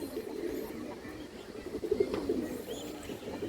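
A big female silver-line pigeon on a farm gives low, soft, repeated throaty coos, close by but fairly quiet, with faint background noise around it.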